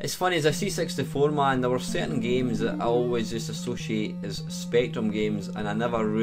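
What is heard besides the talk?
None of the usual background noises is heard.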